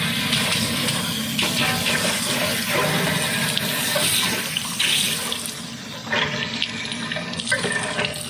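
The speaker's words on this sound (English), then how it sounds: "we're going to run water in there, and we're going to rinse out the bottom" Water rushes steadily into an RV hot water heater tank to rinse out calcium deposits, a continuous loud splashing flow with no talk.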